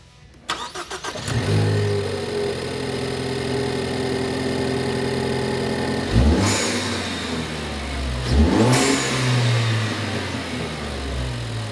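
A 2013–2014 Ford Focus ST fitted with a COBB cold air intake cranks and starts, then settles into a steady, loud idle with two sharp revs midway, the intake and turbo noise prominent and close, with no talking.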